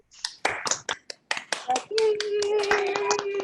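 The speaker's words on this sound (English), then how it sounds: "So, a big round of applause for Rose." A small audience at a community award presentation gives scattered, separate claps that quickly thin out, and then a voice starts talking over the last few hand claps.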